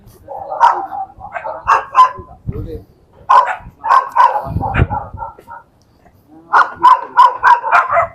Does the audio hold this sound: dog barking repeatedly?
yes